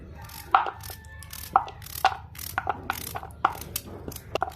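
A knife cuts peeled turnips on a board for a village turnip-and-meat dish. Distinct chops and clicks come at an uneven pace, close and fairly crisp over a low background hum.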